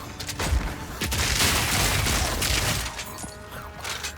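Grenade blasts from a mercenary's attack in Path of Exile 2 erupt in a loud, crackling cluster of booms and shattering bursts, layered and chaotic for a few seconds before thinning out.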